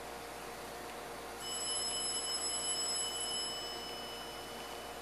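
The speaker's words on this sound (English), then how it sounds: "I'm not going to answer the phone." A telephone rings after hours in a room with an espresso grinder, a steady electronic tone with bright harmonics sounding for about two seconds over a low background hum, then stopping.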